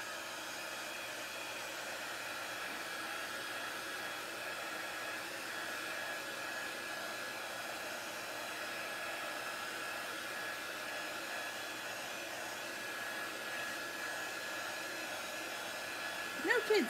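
A hair dryer blows on freshly applied craft paint, producing a steady, close whooshing whir that runs unchanged for a long stretch before a brief bump of handling noise at the very end.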